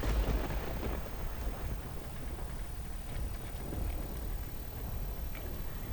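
Steady rain hisses softly over rural villages near Dhoraji, Rajkot, Gujarat, with a low rumble of distant thunder near the start. The sound is faint and continuous, and nobody speaks.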